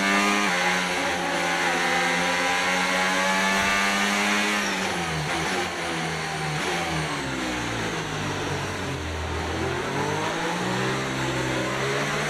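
Formula 1 race cars in the F1 25 racing game, engines revving loudly and continuously as a pack, with pitch rising and falling through gear changes and no talk over them.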